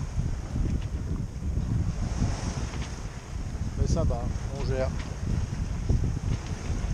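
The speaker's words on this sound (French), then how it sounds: "Un peu plus de vent là." Gusty wind buffeting the microphone over water sounds on a sailboat moving at 5 knots in 20-knot wind under reduced sail, with a person speaking briefly in French in the middle.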